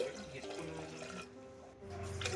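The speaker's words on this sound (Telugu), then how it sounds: "తగినన్ని నీళ్లు పోసుకుందామండి" Water being poured into a bowl for pepper rasam, a soft, faint trickling and splashing close by for a couple of seconds, with no talking.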